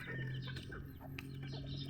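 A chicken clucks in short, close, repeated calls on a farm in Asturias, Cebu, over a steady low background hum.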